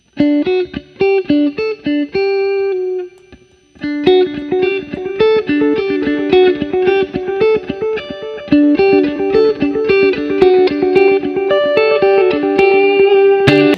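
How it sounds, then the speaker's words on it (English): Electric guitar plays a picked pattern through a Line 6 Echo Park pedal set to dotted-eighth delay, repeats cascading rhythmically between the notes, with a brief pause before the riff resumes. "We have got our Line 6 Echo Park set up with the dotted 8th delay."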